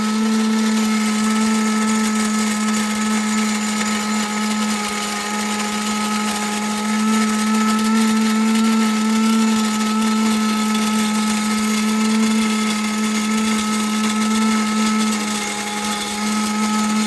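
A Tractor Supply feed grinder grinds corn with a loud, steady electric whine and an unbroken mechanical hum that holds even throughout, with no voices.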